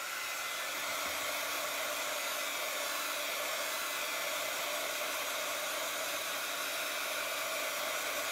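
A hair dryer blows steadily and close by as it dries a craft project, a constant loud whoosh with no talk over it.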